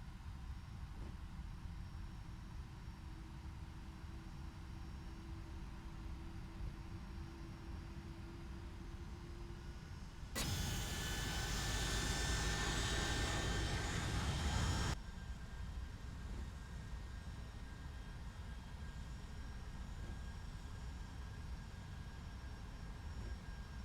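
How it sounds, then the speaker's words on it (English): An aircraft takes off in the X-Plane 11 flight simulator, a loud jet roar that swells suddenly for about five seconds over a steady low engine hum, then drops back to the background drone. "There goes that other aircraft that was taken off."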